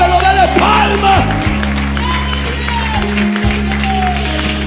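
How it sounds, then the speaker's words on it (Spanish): A Pentecostal congregation clapping along in church during worship singing, loud and steady rhythmic clapping mixed with crowd voices over sustained music. "Alábelo, alábelo, alábelo, dele palmas."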